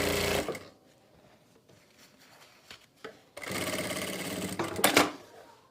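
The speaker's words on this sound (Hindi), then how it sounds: "चाल को बिल्कुल मोटा रखना है क्योंकि हम यहाँ पर कच्ची सिलाई लगा रहे हैं।" A sewing machine runs a long basting stitch along a kurti neckline: a short whirring burst first, then a quiet pause with faint handling, then a longer close rattling run that stops abruptly.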